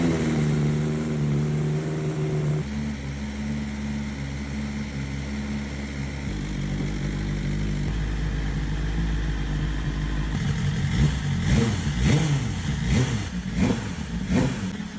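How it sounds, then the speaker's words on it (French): A 2021 BMW S 1000 RR superbike engine runs in a workshop during a full service, idling with a steady, loud mechanical drone before a series of sharp, repeated throttle blips and revs near the end. "Je trouve que le moteur est assez bruyant."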